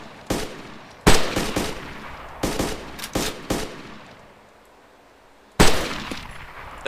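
Gunfire from the survival game DayZ: several loud, sharp shots in short separated bursts, with quiet gaps between them and one more close blast near the end.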